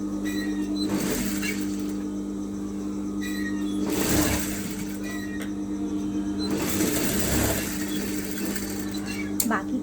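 A sewing machine runs in bursts while stitching a belt strip onto the lower edge of a round-neck blouse, with steady motor hum underneath and someone talking over it.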